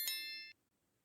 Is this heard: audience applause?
no